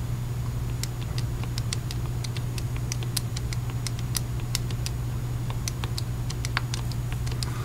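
Button presses on a calculator while entering a matrix sound as quick, light clicks at an irregular rhythm over a constant low hum, close and fairly faint.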